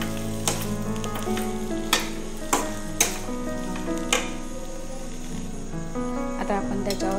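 Potato vada filling mixture sizzling steadily in a pan as it is stirred, with sharp scraping clatters from the spoon at intervals over the continuous fry.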